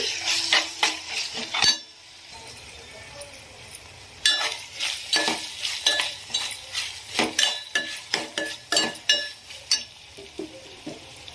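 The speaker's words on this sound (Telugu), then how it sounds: "అల్లం వెల్లిగడ్డ పేస్ట్ని యాడ్ చేసుకుందాము" Ginger garlic paste fries in a pan for keema curry, a steady sizzle broken by frequent clinks and scrapes of a spoon stirring against the metal, with a brief quiet gap early on.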